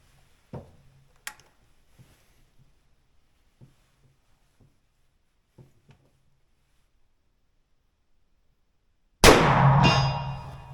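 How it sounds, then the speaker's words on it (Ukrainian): Several faint, sharp metallic clangs of subsonic .300 Blackout bullets hitting a steel gong at 100 meters ring out at irregular intervals, then a sudden loud burst of noise erupts near the end. "Є влучання"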